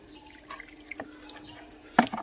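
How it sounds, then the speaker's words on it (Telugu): Water drains out of a plant pot of loose, fertilised soil just after watering, giving a few scattered drips and splashes, the loudest near the end, over a quiet background. "మొత్తం పోసిన వాటర్ పోసినట్టు బయటకు వచ్చేసింది"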